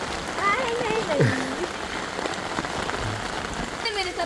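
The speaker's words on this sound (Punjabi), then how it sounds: "ਇਹ ਤਾਂ ਮੈਂ ਕਹਿੰਦਾ ਹੁਣ ਮੀਂਹ ਪੈਂਦਾ ਨਾ ਉੱਪਰ" Rain patters steadily on a surface while a voice speaks over it, with a few chirpy tones cutting through.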